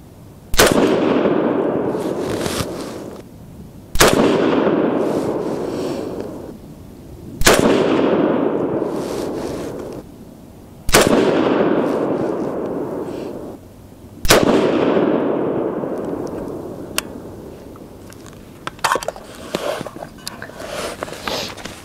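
A custom Grey Ghost AR10 rifle firing handloaded .308 Winchester rounds with 155-grain Lapua bullets at target practice, five loud, evenly spaced shots, each followed by a long echoing decay outdoors.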